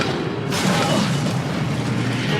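The Accio summoning spell fires in Hogwarts Legacy, opening with a low rumble before a sudden broad whooshing burst at about half a second that then settles into a sustained magical roar.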